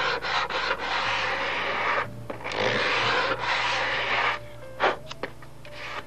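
Sandpaper worked over the surface of a Miss Ashley 219 model airplane, likened to sanding 8 or 9 pound balsa wood: close, steady rasping strokes that run almost continuously, broken by a couple of short pauses.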